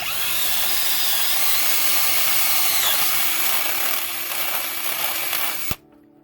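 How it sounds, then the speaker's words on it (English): A power drill whirs steadily and close for several seconds, boring into wood for a carpenter bee trap, then cuts off abruptly. "So we're going to drill 3 of these."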